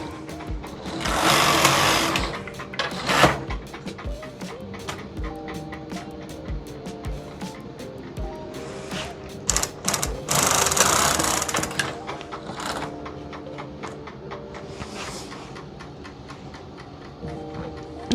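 Brother KH588 standard-gauge knitting machine knitting rows of wool, the carriage sweeping back and forth in repeated rattling, clicking passes, close and steady with brief louder surges.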